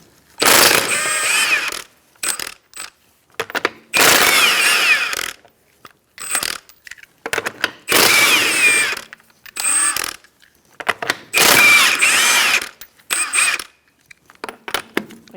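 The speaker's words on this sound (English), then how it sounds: "Using a 21mm socket, we're going to take off our lug nuts." A socket ratchet with a 21mm socket removes the front wheel lug nuts on a 2004-2009 Mazda 3, buzzing loudly and close in repeated bursts of rapid clicking separated by short pauses.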